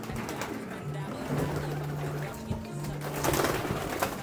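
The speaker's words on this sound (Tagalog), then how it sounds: "Mga ibon mga kalapatids ito dito." Soft, low cooing of pigeons repeats in short phrases over a busy outdoor background with scattered rustles.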